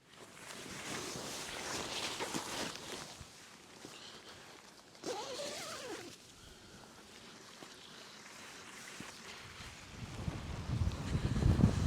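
Wind gusts outside a camp spot, buffeting the microphone in uneven rumbling surges that swell loudest at the end, with faint footsteps and rustling mixed in.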